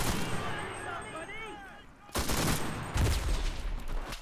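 White phosphorus artillery barrage in the Enlisted video game: a muffled whistling stretch gives way to two heavy booming impacts with sustained crackling gunfire and rumble, fairly distant and steady.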